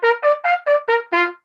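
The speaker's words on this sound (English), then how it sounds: "So here are the open notes." Trumpet playing a run of six open notes, each a short, bright, clearly separated blast stepping through the natural harmonics, loud and close with no talking.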